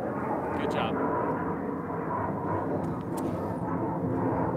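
Fixed-wing aircraft fly overhead in a steady, loud, broad roar that fills the whole moment outdoors, with a person briefly speaking over it.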